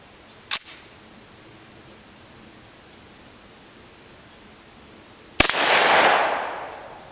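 A 200 grain soft point round from a Remington Model 8 rifle strikes a 5/16 inch steel plate: a faint distant crack, then a single sharp loud report with a long decaying rush, over quiet outdoor background.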